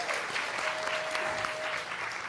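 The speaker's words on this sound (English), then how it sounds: "we'll clap" An audience claps together at a gathering in Oakland, a quiet, even, continuous patter of many hands that runs throughout, with a thin sustained tone sounding briefly in the middle.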